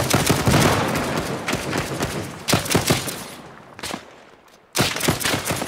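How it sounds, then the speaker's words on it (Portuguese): Loud rifle fire rings out in the military video game ArmA 3, set in a Tanoa village during a Liberation match, in several sharp bursts and volleys with echoing tails and a short lull before firing resumes. "Opa, tiro!"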